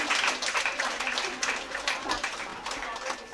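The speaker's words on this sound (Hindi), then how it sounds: "इनके लिए ज़ोरदार तालियां बजाइए।" Audience at a women's day felicitation and prize distribution ceremony claps loudly, a thick, sustained burst of many hands with voices mixed in beneath it.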